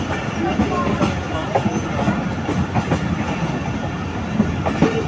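Train rolling past the Khanpur level crossing gate, steady rumble with repeated clickety-clack wheel beats on the rails at close range, a faint voice in the background.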